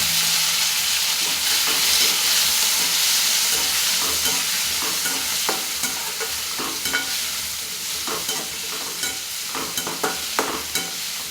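Tomato sautéing and being stirred in a pan for tiffin sambar, a steady loud sizzle and hiss with repeated scraping stirs of the spoon, close up and with no talking.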